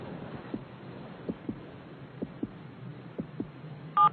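Heartbeat sound effect from a Tagalog-dubbed anime episode of Hunter x Hunter: soft, low thumps in paired beats, repeating about three times over a faint hum, with a brief electronic tone at the very end.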